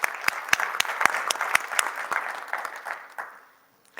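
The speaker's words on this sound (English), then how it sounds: "Let's give him a round of applause." Audience applause after a talk at a panel discussion, a dense burst of clapping from a sizable crowd that rings steadily for about three seconds and then fades out to near silence.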